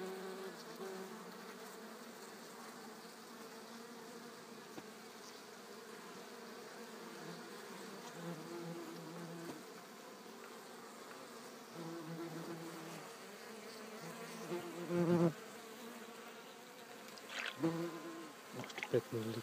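Honey bees humming steadily inside a hive during an oxalic acid treatment, a soft, continuous low buzz with a few louder close passes near the end and no talk.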